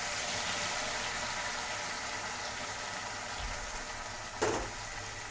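A ground paste of cashew, almond, onion, garlic, ginger and chili sizzles steadily in a pan for paneer tikka masala, a continuous close frying hiss with a brief clatter near the end.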